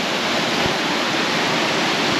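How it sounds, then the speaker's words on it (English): Multnomah Falls, heard from the top, pours as a steady, dense roar of rushing water that stays even and loud throughout, with no voices. "Top of Multnomah Falls, which is the big one."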